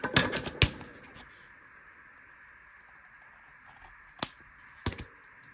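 Scissors snip several times in a quiet room: a quick cluster of sharp crisp cuts at first, a pause, then two more isolated snips later, close and alone.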